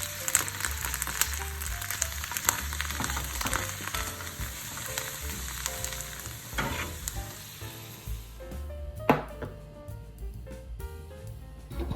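Chopped bok choy sizzles loudly in a hot frying pan with a little vegetable oil, a steady bright crackle that keeps up for most of the time, with a few stirring knocks and a sudden quieter stretch near the end.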